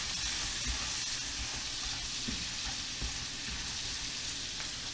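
Pork chops fry in a hot pan with melting butter, giving off a steady, bright sizzle and hiss with a few soft pops and clinks underneath, fairly quiet and continuous.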